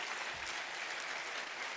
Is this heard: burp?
no